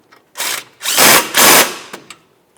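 A power tool, likely a drill or impact driver, tightens a brake hose mounting bolt on a 2015-2019 Subaru Outback: one short whir, then two longer loud bursts close by.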